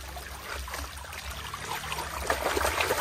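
Water trickles and splashes steadily over stones in a rocky river in Riau while gold is panned by hand the traditional way, a close, continuous burbling with light droplet spatters.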